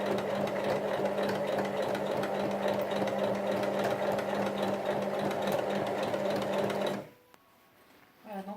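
Sewing machine stitching the handles of a fabric Christmas basket 5 mm from the edge, a loud, steady mechanical whir running continuously for about seven seconds before stopping abruptly, followed by near silence and a small clack.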